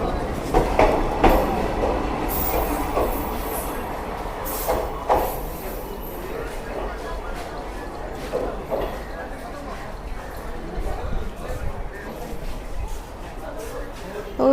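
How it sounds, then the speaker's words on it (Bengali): A train pulls away from Bolpur Shantiniketan station, its rolling rumble and wheel clatter continuing under a person talking and general platform noise. "যে ট্রেন চলে যাচ্ছে দূরে"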